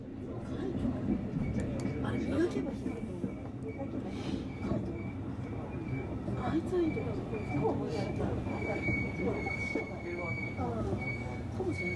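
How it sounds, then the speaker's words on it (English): A JR Shinano express train, 383 type, runs near Shiojiri in Nagano, a soft rolling rumble with faint wheel squeal and clatter heard under ongoing talk. "Over there, you could see the express train Shinano JR"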